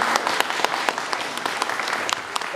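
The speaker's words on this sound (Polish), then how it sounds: "wielkie brawa" Applause at a bagpipe (dudy) performance gathering in Rabka-Zdrój, Poland: steady, dense clapping from a nearby audience throughout, with individual sharp claps standing out.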